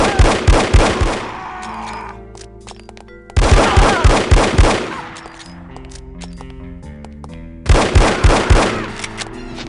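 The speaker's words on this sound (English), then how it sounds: "Look out for the bullets!" Gunfire from the video game No One Lives Forever, three loud rapid bursts of automatic shots spaced a few seconds apart, each followed by a ringing musical tail.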